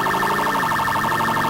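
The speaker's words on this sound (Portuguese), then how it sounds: "O alarme de incêndio disparou aí." A steady, continuous emergency siren wails loudly in GTA IV as a fire call comes in, its warbling tone cycling rapidly and filling the whole moment with no voices.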